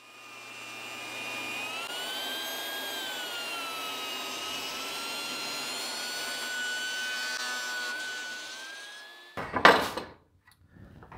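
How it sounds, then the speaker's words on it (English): A table saw rips walnut into strips with a loud, sustained whine that shifts pitch slightly as the blade cuts through the wood for about nine seconds. It ends with a clatter as the piece is handled. "Now I need to take it over to the table saw and rip it down into strips that are as wide as the piece is thick."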